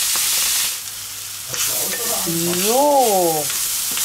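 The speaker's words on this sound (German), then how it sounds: "Und die tun wir jetzt auch schön anrösten," Bell peppers sizzle and fry in a pan while being roasted for shashlik skewers, a loud continuous hiss with stirring, and someone speaks briefly over it.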